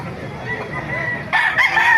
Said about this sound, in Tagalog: makita nyo mga manok dito sa Baliwag